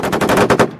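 A machine gun fires a rapid burst of about seven shots on a military firing range during a platoon attack exercise, loud and close, with no voices over it.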